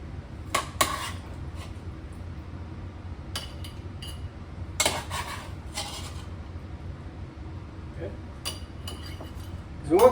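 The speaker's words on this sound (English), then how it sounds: "And then we're going to put all these peppers in it." Hot peppers drop one at a time into a glass pickling jar, giving a few sharp clinks and taps spaced apart over a quiet room, with a person talking faintly between them.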